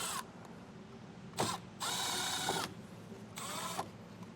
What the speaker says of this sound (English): I'm going to use a T15 Torx bit, and I'm going to take 3 screws out of the wheel well liner.